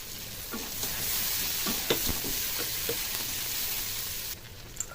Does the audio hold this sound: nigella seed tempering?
yes